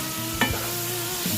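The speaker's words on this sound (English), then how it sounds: "We'll mix it up as we're browning." Jerk-seasoned pork chunks browning in a pan, a quiet steady sizzle with a single sharp scrape of a utensil stirring the meat, no voices.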